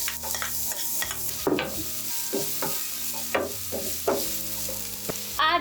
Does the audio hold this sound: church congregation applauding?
no